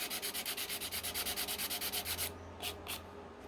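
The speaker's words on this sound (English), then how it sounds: "it takes no effort at all to sand the pieces down" Plastic model kit parts for a Johnny 5 toy being sanded by hand: a quick, steady run of close, rhythmic rasping strokes, then a pause and two separate short scrapes, with no voices.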